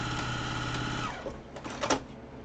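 A sewing machine stitching a fabric mask, a needing-oil machine running in a steady close mechanical whir for about a second, then stopping into softer clicks and handling noises, no talking.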